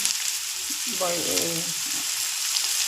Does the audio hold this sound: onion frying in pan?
yes